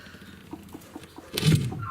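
Hen clucking nearby in a hot coop: soft, spaced clucks followed by a louder, fuller cluck toward the end.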